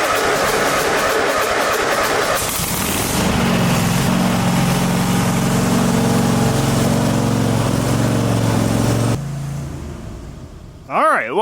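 A lawn mower engine fires up and runs at a steady low drone after a burst of earlier noise, then cuts out near the end as a person talks in the background.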